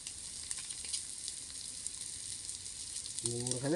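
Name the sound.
oil bubbling and sizzling while cooking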